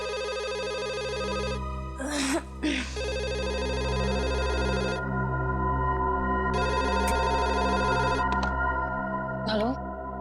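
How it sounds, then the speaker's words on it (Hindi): An electronic telephone ring sounds in two long bursts, separated by a short gap with brief vocal noises, over a steady low hum. "इतनी रात को कौन फोन कर रहा है?"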